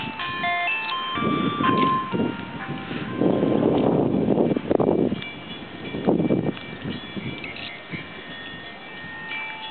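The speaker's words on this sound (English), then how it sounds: "Sorry, that's the ice cream truck over there in the street." An ice cream truck on a street in New Orleans' Lower 9th Ward plays its tinny jingle from a distance, while bursts of wind buffeting the microphone rise and fall over it.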